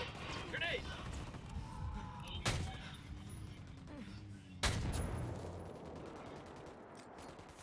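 Gunfire in the video game Ghost Recon Wildlands: two sharp shots stand out against a dense, busy battle soundscape, with voices talking throughout.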